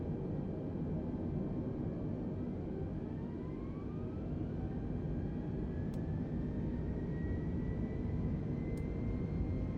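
An Airbus ACJ320neo corporate jet's engines roar steadily during the takeoff roll in Microsoft Flight Simulator, a loud, continuous broadband rumble with faint rising tones and no talk.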